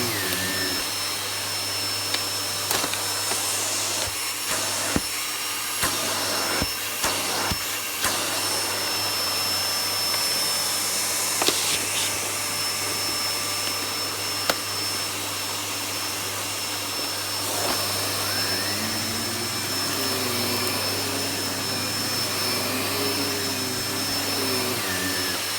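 A Miele S7 upright vacuum cleaner runs steadily at close range, a loud continuous motor whine and airy rush with small clicks and bumps as it moves, no one speaking.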